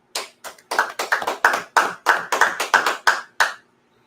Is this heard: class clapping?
yes